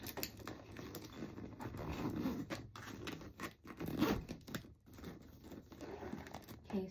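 A zipper on a purse with a double zipper pull being pulled open and closed in several rasping strokes, close to the microphone, with faint handling rustles.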